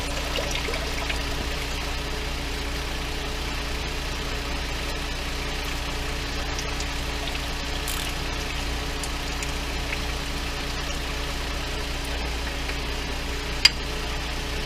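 Volvo transmission fluid running out of the open drain plug into a pan, a steady continuous pour under a low engine-like hum, with one sharp click near the end.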